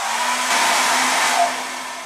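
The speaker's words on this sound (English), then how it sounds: "So I'm going to try and do that with my hairdryer." A hairdryer blows close and loud with a continuous whooshing roar and a faint whine, warming a strip of shape-memory polymer, and eases off slightly at the end.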